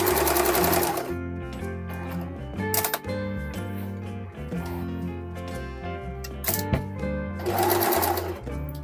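A sewing machine runs in steady bursts, stitching fabric for a pair of dinosaur-print dungarees, its rapid mechanical chatter close and continuous with brief pauses.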